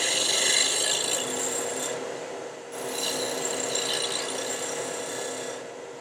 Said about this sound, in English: Now, suppose you don't have one of those, and you want to use a carbide cutter.